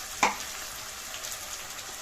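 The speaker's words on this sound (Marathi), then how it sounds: "याला पण परतून घ्यायचं छान" Spice paste and golden fried onions sautéing in a pan for a Marathi vajari sukka, a steady faint sizzle with one brief scraping stir near the start.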